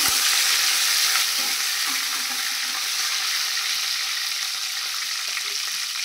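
Curry leaves crackle in hot oil with cumin and mustard seeds for stuffed capsicum, a dense, steady, close sizzle that stays loud and even throughout.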